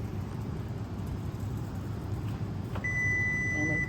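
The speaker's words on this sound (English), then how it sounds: "It's beeping, it's time." An oven timer beeps as a Polish plum tart finishes baking, a thin steady tone entering near the end and holding over a low kitchen hum, faint and close.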